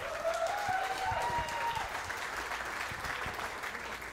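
Wedding guests applaud the bride's parents with steady, close clapping that holds at an even level throughout, while a few faint voices call out over it near the start.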